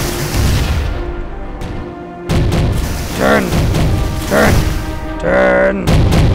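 Naval cannons firing in the warship video game Navy Field 2, several loud booming shots spaced a second or two apart over a rumbling battle background, with voices calling out over the action.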